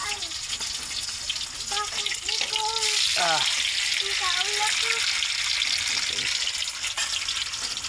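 Hotdogs frying in a pan give a steady, close sizzle that swells slightly midway, with a person talking over it.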